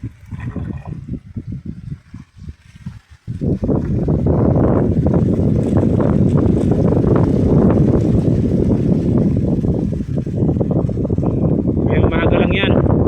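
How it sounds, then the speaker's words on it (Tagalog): Strong outdoor wind buffets the microphone in a loud, continuous roar after a few quieter seconds at the start, with people talking underneath. "Lakas ng hangin."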